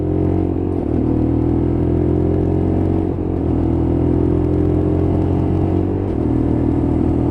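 Lexmoto LXR motorcycle accelerating through its gears on a road ride, a steady loud engine drone with pitch rising within each gear and short dips at the shifts, heard close with no talk.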